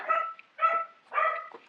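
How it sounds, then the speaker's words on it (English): Three sharp dog barks in quick, even succession, fairly close and clear against a quiet background. "I apologize for the dogs barking in the background"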